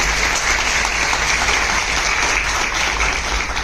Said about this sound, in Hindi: इसलिए मैं चाहूंगी कि एक बार जोरदार तालियां आप अपने लिए बजा दें।